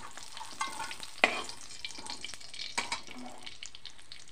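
Cashews and raisins fry in a pan with a quiet, steady sizzle, broken by the scrape and clink of stirring, including a sharper knock near the start.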